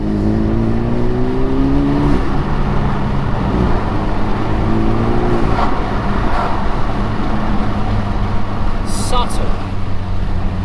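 A Renault Megane RS Mk4 fitted with a Forge smart valve spacer drones through steady engine pulls, its tone rising and falling under constant road and cabin noise, with faint interior sounds.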